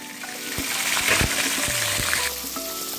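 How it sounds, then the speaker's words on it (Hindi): Okra (bhindi) frying in very hot ghee in a wok over a low flame gives a steady, close sizzling hiss, with a few soft clinks from the pan along the way. "इसको कढ़ाई में ऐड कर लेना है और इसको फ्राई करना है लो फ्लेम पे"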